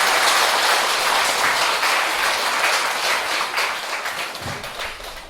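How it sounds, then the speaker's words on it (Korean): An audience claps loudly and steadily after a weekly sutra lecture, giving a dense, continuous burst of applause that tapers slightly toward the end. "오늘 공부를 교정 교수님께 다시 한번 감사의 큰 박수를 부탁드립니다."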